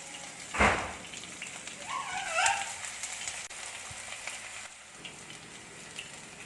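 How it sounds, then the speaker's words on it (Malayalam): Chopped onions hit a pan where mustard seeds are already cooking: a sharp thump-and-hiss on adding, then a softer, fading crackle of sautéing. "ഇനി അരിഞ്ഞു വെച്ച ഉള്ളിയൊക്കെ ചേർത്ത് നന്നായി വഴറ്റിയെടുക്കുക"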